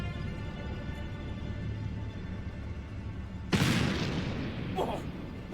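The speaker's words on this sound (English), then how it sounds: "Oh, what was that? Sounded like a gunshot." A sudden loud bang, like a gunshot or firework, bursts out in the Black Mirror III game after a stretch of quiet ambience, followed by a brief echoing tail.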